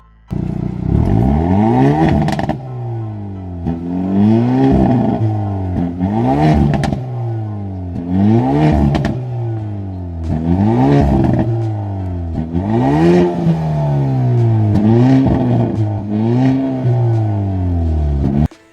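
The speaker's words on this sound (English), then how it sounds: "Plus, it just sounds epic. Listen to this thing rev up." Hyundai Veloster N hatchback engine revving up repeatedly, loud and close, with rising and falling pitch sweeps in a steady rhythm of about a dozen revs and no talking.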